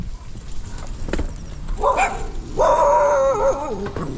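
A dog outdoors on a hillside in Nha Trang, Vietnam gives a few sharp barks followed by drawn-out whining yelps and howl-like cries, loud and close, with no speech over it.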